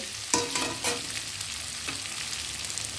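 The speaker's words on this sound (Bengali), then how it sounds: "পরিমাণ মতো হলুদ দিয়ে দিচ্ছি এবার ব্রকলিগুলো দিয়ে দেবো" Broccoli frying with turmeric in a hot pan, a steady loud sizzle throughout with a few sharp spatula stirring scrapes near the start and one later.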